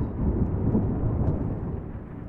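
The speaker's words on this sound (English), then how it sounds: "The stormy weather outside." Low rumbling thunder from a storm outside in the horror game Can't Revert, a sustained heavy roll that swells and slowly fades over a couple of seconds, with no speech.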